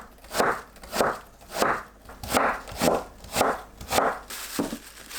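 Knife shredding napa cabbage thinly on a board, eight crisp evenly spaced cuts in a steady rhythm, close and clear with no talking.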